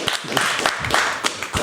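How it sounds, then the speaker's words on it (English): Studio crew and guests on a podcast set clap for a guest in a short, uneven burst of claps, close and moderately loud, with a few sharper slaps standing out. "Round of applause. Another round of applause."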